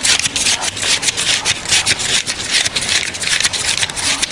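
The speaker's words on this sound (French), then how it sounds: "Ce bruit des billets" Banknotes being counted in a neighbouring office: rapid, papery flicking and rubbing strokes repeat in a quick, uneven rhythm, bright and close, with no voices over them.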